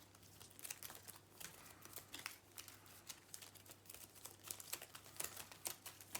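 Crisp, rapid riffling and crinkling of cards being shuffled close by, quiet and continuous with no voices.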